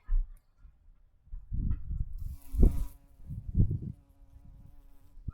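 A bumblebee buzzes close by in irregular low droning bursts, rising and fading as it moves around, with quiet pauses between.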